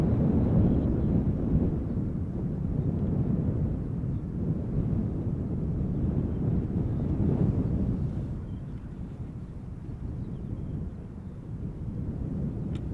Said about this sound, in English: Embraer's also landing on center.